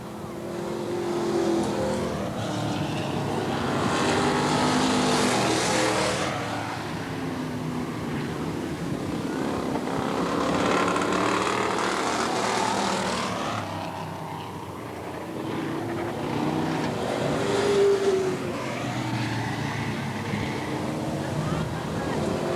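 Race cars lapping Eugene Speedway in a 1990 oval race, engines sweeping past in repeated rising and falling passes with steady roar throughout, while a commentator talks over the noise.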